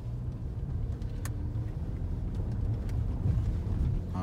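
A car drives on the road with a low, steady engine and road rumble throughout, a few faint clicks and ticks over the top, no talking.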